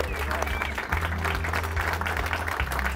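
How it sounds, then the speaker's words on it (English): An audience applauding at a wild game dinner, with dense, steady clapping from a sizable crowd, close and continuous throughout, plus a few voices mixed in. "Can we get a little applause out there for everybody?"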